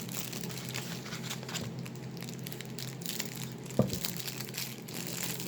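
Crinkly plastic packaging of rhinestone bling trim is handled and pulled at, giving a soft continuous crinkling with one sharper crackle, close but quiet.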